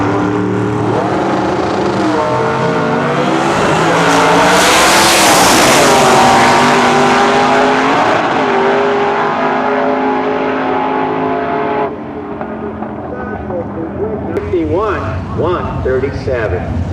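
Supercharged 1964 Ford Falcon drag car with a 427 stroker and 671 blower and four-speed, roaring loudly at a drag strip meet, its engine note climbing and then fading as it pulls away, with an announcer talking over it.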